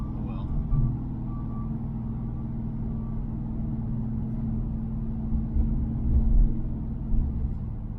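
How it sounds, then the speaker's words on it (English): Road traffic passing outside a moving car, a steady low engine and road rumble with occasional swells as vehicles go by, and a faint beep partway through, under a quiet in-car voice. "Can't make any noise, there's too much traffic."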